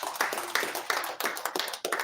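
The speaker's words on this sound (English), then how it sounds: "A hearty round of applause." Sparse hand clapping from an audience honoring the chairman of Nigeria's Independent National Electoral Commission, a thin, uneven patter of claps in irregular bursts, fairly quiet and close.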